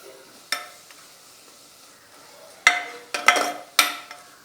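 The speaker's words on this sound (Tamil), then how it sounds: "இந்த கழுவின மட்டனை வந்து இந்த எலும்பு வந்து நல்லா வதக்கிக்கணும்." Mutton bones with a little meat attached sautéing in their own fat in a pan, a soft sizzle broken by several sharp clanks of a spoon stirring against the metal.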